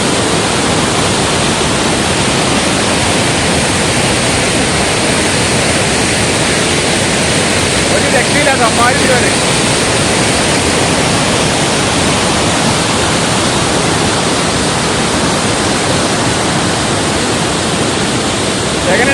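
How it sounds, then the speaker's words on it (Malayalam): A large waterfall roars in a dense, unbroken wash of noise that fills the whole stretch at close range and high volume, with no pauses or changes in level. "ഒരു രക്ഷയില്ല ഭയങ്കര വെള്ളച്ചാട്ടാണ്"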